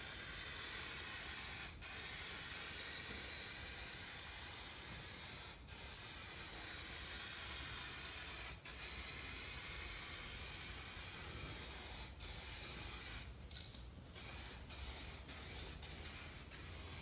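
A continuous hiss from an aerosol can spraying clear coat outdoors in wind, close and steady for a long stretch, broken by a few brief pauses and short bursts near the end.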